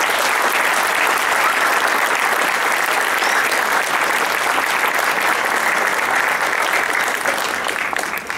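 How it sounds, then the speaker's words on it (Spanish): Loud, dense audience applause fills a ceremony hall at a 2014 Palabras del Alma event, a steady unbroken wash of clapping with no voices above it. "reiteramos este fuerte aplauso para ella"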